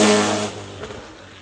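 A 5-litre V8 car at the Goodwood Festival of Speed lets out a brief, loud rev that fades quickly as it pulls away.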